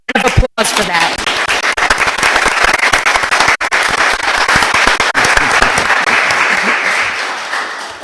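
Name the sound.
applause at a town board meeting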